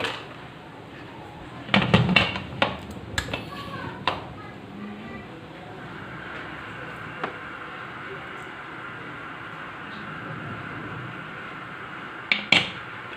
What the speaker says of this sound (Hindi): अब प्रेशर कुकर को मैं बंद कर दूंगी